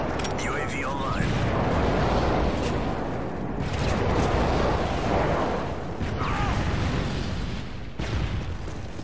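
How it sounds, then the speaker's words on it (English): Airstrike explosions boom across a multiplayer match in Call of Duty Modern Warfare 3 on the Dome map, heavy rolling blasts that rumble one after another. "Airstrike on the way."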